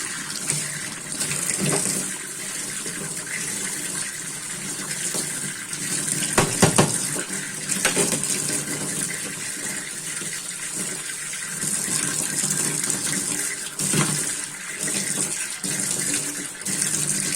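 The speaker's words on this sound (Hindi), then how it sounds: "अब मैं इसको पानी से धुलूंगी" A kitchen sink strainer rinsed under a running tap gives a steady stream of water with splashing, a few louder bursts as it hits the mesh, close by and with no talk.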